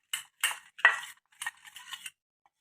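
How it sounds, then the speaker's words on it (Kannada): Ashwagandha powder being stirred into raw milk in a bowl with a spoon: a few short, separate clinks and scrapes of utensil against the bowl, close and fairly quiet, with no talking. "ಅಶ್ವಗಂಧ ಪುಡಿ ಇದನ್ನು ಹಾಲಲ್ಲಿ ಮಿಕ್ಸ್ ಮಾಡ್ಕೊಳ್ತೀನಿ ನೋಡಿ"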